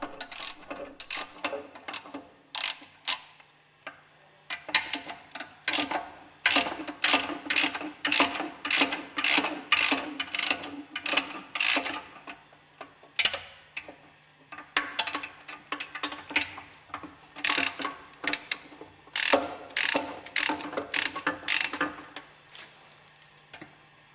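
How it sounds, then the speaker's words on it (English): Hex head screws being unscrewed from the bearing housing of a Westfalia ODS purifier during overhaul, giving a long run of close, rapid ratchet clicks in bursts with short pauses, a steady low hum underneath. "Unscrew the hex head screws on the bearing housing."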